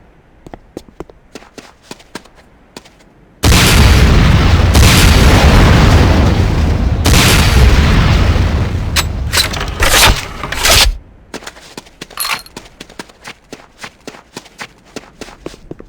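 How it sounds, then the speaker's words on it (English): Rocket launcher fire and explosions in the Command & Conquer Renegade tutorial, a sudden loud roaring blast that sustains for several seconds, then trailing bursts, framed by quick rhythmic footsteps before and after. "Next up is the Sakoze 66mm type R12 Locust automatic rocket launcher."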